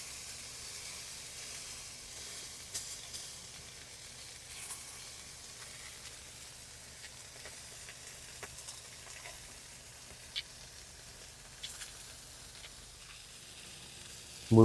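Steak sears on a Masterbuilt grill, giving a soft, steady sizzle and hiss with occasional faint pops and crackles, fairly quiet and alone throughout.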